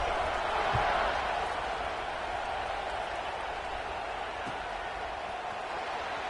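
Steady stadium crowd murmur and cheering in a College Football 26 game between Alabama and Clemson after a touchdown, a broad continuous roar at moderate level with no clear peaks, a brief thump near the start.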